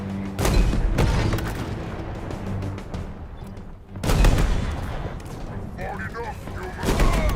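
Heavy gunfire in a Halo Infinite campaign battle: loud bursts of shots and booming blasts in three heavy volleys, with combat noise continuing between them.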